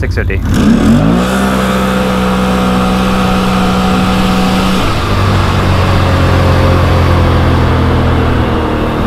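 A Dalton DBO off-road vehicle fitted with a CVTech clutch kit runs in low range, its engine loud, close and steady throughout, with a drop in pitch partway through as it settles.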